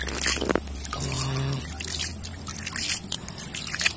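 Water is poured over a creature in a T-Rex dinosaur fighting video game, making short dripping and trickling splashes with a brief tonal game sound in the middle, fairly close and without speech.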